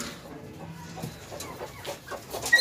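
Chickens clucking softly nearby, a few scattered low calls over a quiet background.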